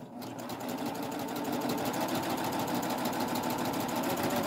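A Baby Lock 8 thread serger stitches a knit hem with a steady, fast mechanical whir that builds slightly and runs without a break, close and unaccompanied by talk.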